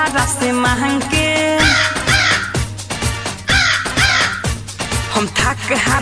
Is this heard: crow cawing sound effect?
yes